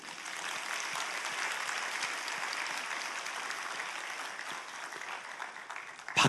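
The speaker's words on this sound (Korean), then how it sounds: "모든 분들을 위해서 격려 박수 하겠습니다" A congregation at a Korean Sunday church service gives sustained applause of encouragement, with many hands clapping in a dense, steady roar for several seconds before it tapers off with a few final louder claps.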